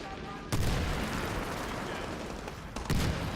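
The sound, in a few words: gunfire in the video game Medal of Honor Warfighter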